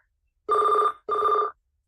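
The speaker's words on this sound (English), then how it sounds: "And my phone is ringing, if you guys can hear that." A telephone rings twice in two steady, electronic bursts of just under half a second each, loud and near, with a brief pause between them and silence before and after.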